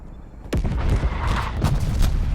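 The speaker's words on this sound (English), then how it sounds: "Net call, incoming artillery." Incoming artillery in a video game, a sharp close impact followed by rumbling booms and further thuds over a couple of seconds, loud and heavy.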